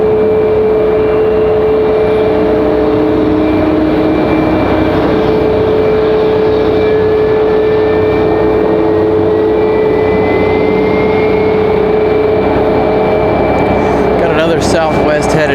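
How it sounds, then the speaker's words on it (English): A Southwest airliner taxis out toward the end of the runway at Raleigh-Durham airport, giving a loud, steady engine whine and rumble with a sustained tone throughout. "Southwest headed out. That's what you guys are hearing now. They're taxiing out to the end of the runway."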